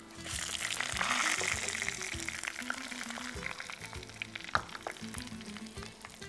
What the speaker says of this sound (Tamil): ஸோ இப்போ எண்ணெய் காஞ்சிடுச்சு. இதில் தாளிக்கிறதுக்கு கடுகு,